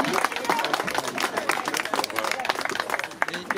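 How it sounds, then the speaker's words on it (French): A crowd claps in a busy, uneven patter while voices talk over it, the applause loud and close throughout. "Merci, on les applaudit."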